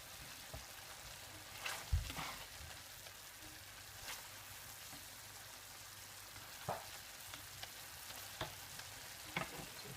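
A cream sauce with mushrooms and smoked salmon bubbles quietly in a pan, giving a faint steady sizzle with scattered soft pops and an occasional stirring knock, heard up close with no talking.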